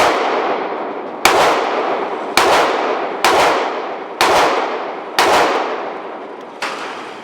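An HK VP9 pistol fired at a shooting range, six loud sharp shots spaced roughly a second apart, each cracking close and decaying with reverberation.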